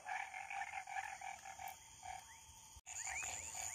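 Frogs croak near a tilápia and traíra fishing spot, a dense chorus of repeated calls at quiet, steady level, with a brief gap and then more chirping croaks.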